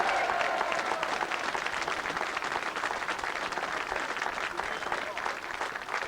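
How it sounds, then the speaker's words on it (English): A racecourse crowd at the 1989 St Leger at Ayr gives a dense, sustained round of applause and cheering for the winning jockey, Steve Cauthen. The clapping stays loud and steady throughout. "Gets the biggest cheer of the whole day"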